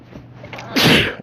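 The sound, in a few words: sneeze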